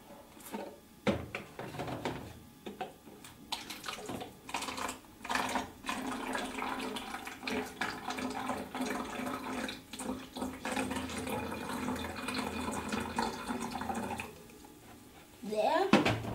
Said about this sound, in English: take hydrogen peroxide and pour it into this